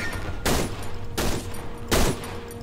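Three heavy gunshots in the horror video game Cry of Fear, each a loud broadband blast spaced under a second apart with a short decaying tail, alone with no speech.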